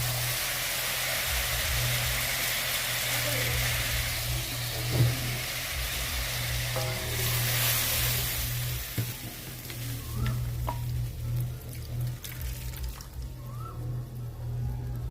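Hilsa fish cooking in a pan as a little water is added, a continuous sizzling, bubbling simmer with a steady low hum beneath and occasional utensil clicks.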